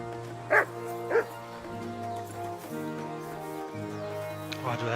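In Kingdom Come Deliverance 2, a dog barks twice in quick succession at close range over a sustained musical drone, with another faint yip near the end.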